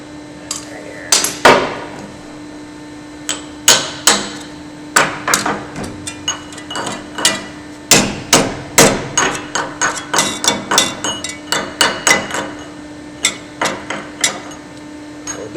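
A hammer strikes a small piece of stainless steel on a Supreme 1200T mixer wagon to bend it back, with sharp metallic blows landing in irregular bursts, several quickening into rapid runs, over a steady low machine hum.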